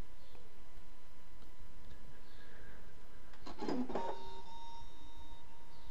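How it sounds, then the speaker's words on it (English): Brother ScanNCut machine cutting a design into a stencil sheet, quiet mechanical ticking and whirring with a short louder burst of motor movement midway, heard alone. "the machine is now going ahead and cutting that design for me"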